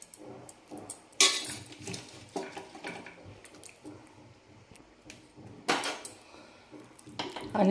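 Malı river fish with turmeric and salt stirred into a pot of spicy village-style curry over low flame, with scattered clinks of a utensil against the pot and wet squelching stirs, moderately close.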